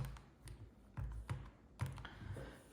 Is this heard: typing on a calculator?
yes